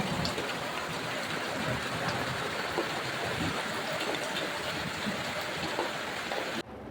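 Heavy rain falls in a steady, dense wash, with no voices, continuing evenly until it drops off sharply at the very end.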